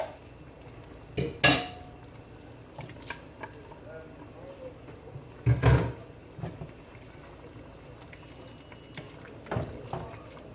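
Sardines go into a pot of Jamaican-style seasoned rice, giving a few sharp clatters of utensil against metal and soft stirring scrapes amid quiet kitchen background.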